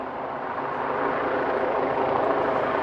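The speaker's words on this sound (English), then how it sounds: "We have a police helicopter above. It's purposefully making more noise." A police helicopter hovers overhead, its rotor and engine making a steady loud roar that builds slightly and never lets up, with no talking.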